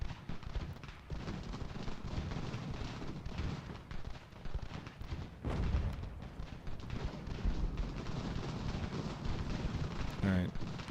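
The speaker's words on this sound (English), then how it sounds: "the risk of friendly fire from some of my artillery when the enemy gets in close" Artillery fire in the video game Ultimate General: American Revolution, a dense run of booming blasts and rumbling volleys layered over continuous battle din, with a voice talking over it.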